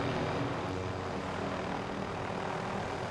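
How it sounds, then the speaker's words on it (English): A video game helicopter's dense, steady rotor and engine roar, loud and continuous throughout with no talk. "I'm just going to throw my helicopter away."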